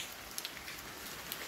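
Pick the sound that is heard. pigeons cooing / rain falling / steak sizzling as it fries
rain falling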